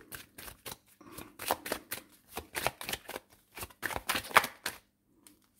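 Tarot cards are shuffled by hand in a quick run of close, crisp riffles and taps that stop abruptly near the end.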